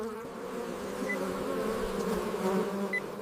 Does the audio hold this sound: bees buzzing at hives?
yes